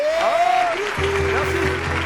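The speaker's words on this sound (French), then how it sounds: "applaudissez pour Gru-Gru" Audience applause for a performer named Gru-Gru at a live comedy show, steady clapping over about two seconds with a voice speaking over it.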